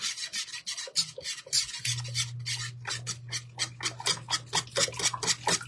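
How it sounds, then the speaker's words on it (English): A whisk scrapes rhythmically around a pot of simmering chocolate syrup, giving steady close-up rasping strokes with a low bubbling hum beneath. "You want to whisk constantly when it's going"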